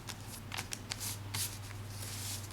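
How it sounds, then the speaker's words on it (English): Paper crackles and swishes as an origami sheet is folded along a crease and pressed flat, several quick crisp rustles close to the microphone over a low steady hum. "we're just going to fold it right along that crease"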